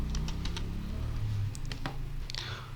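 Light, quick keystrokes on a computer keyboard tap out a short burst of typing, close and fairly quiet over a low background hum, with one firmer press near the end.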